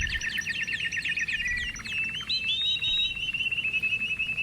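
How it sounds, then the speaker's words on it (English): Birds sing in a lively chorus, with rapid trilled phrases and bright rising whistles overlapping over a low background rumble, close and continuous for a few seconds. "We hear the bird song."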